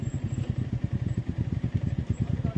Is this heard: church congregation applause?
no